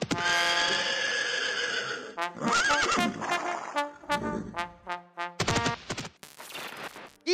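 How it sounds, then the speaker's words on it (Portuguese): Horse race sound effect with loud whinnies and neighs over galloping hoofbeats, then a rapid series of sharp cracks and clatter toward the end, busy and close with no speech. "corrida de cavalos"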